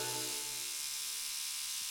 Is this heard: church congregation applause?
no